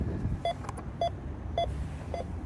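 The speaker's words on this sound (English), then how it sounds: "We simply switch the signal generator on, turn the volume up, makes a beeping noise." A signal generator, switched on with its volume turned up, emits four short, evenly spaced electronic beeps about half a second apart, steady and clear over a low background hum.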